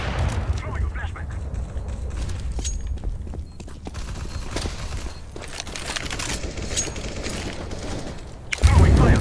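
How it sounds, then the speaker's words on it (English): In a Counter-Strike match, a thrown flashbang grenade ends in a sudden loud burst near the end, after a stretch of game noise and gunfire with a person talking over it. "I'm throwing a flashbang."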